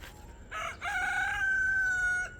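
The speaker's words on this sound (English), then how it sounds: "And that rooster sounded like he was dying." A rooster crows on a rural property in the Philippines among mango trees, a loud, close, strained cock-a-doodle-doo with a rising start and a long held wavering note that cuts off abruptly over quiet background.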